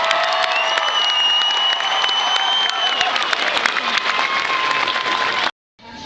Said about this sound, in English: So give everyone a round of applause.